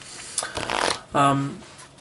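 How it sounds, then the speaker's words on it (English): A deck of playing cards is riffle shuffled by hand, a brisk fluttering riffle followed by a short rustle as the halves are squared, up close, with someone talking over it. "The Riffle Shuffle can be used in Magic, card games, things like that."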